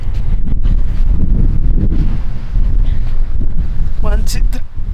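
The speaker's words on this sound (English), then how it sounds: "Yeah, it's windy." Strong wind during a snowstorm in Big Bear, loud and gusting as it buffets the microphone continuously, with people talking and calling out briefly over it.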